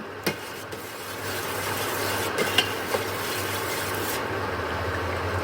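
Liquid being stirred in a pot of boiling Blue Hawaiian lime wine, a steady bubbling hiss with a few soft scrapes and knocks of the spoon, close and continuous.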